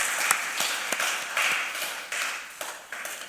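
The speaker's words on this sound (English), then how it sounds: "Let's give them a round of applause" At the opening ceremony of Aquaculture Ghana 2023, a small, quiet audience gives scattered, uneven claps for the sponsors, with a few distinct hand strikes spaced apart and no voices over them.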